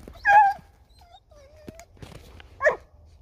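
Deutsch Drahthaar hunting dog at a burrow while rabbit hunting in Michigan, giving high whimpers and short yips at close range, with brief quiet gaps between the cries.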